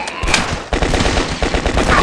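Rapid automatic gunfire from a weapon in the video game The Last Stand, loud and close, with dense continuous bursts and a short break partway through.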